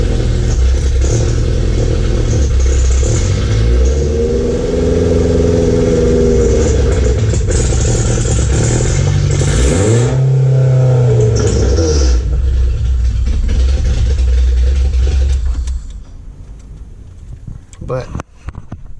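A K24a2-swapped Acura Integra with a freshly reinstalled front-wheel-drive five-speed runs loud and rough, revving up and down in a couple of sweeping pulls before cutting off, with a voice talking over it.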